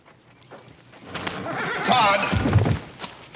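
A horse whinnies loudly at close range, a rising and falling neigh with some hoof thumps nearby, in an outdoor Western ranch scene; no one speaks over it.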